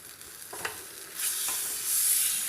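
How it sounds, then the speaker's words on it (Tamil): Marinated Guntur chicken dropped into a hot pan, a steady loud sizzle that swells as it is stirred, with scraping stir sounds near the start. "நாங்கள் மேரினேட் பண்ணியிருக்கிற சிக்கனை எடுத்து இதில் போட்டுக்கலாங்க"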